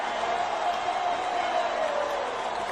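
A jubilant crowd at a sports club roars steadily after Zimbabwe's win over the Netherlands in a one-day international cricket match, a distant, even wash of cheering with a voice faintly underneath.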